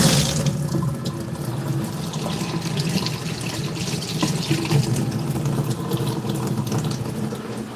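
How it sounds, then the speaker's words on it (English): Water running steadily out of a hose as it drains in a fish room, a close, continuous gushing splash with a low rumble that holds its level throughout. "Get my hose all drained out."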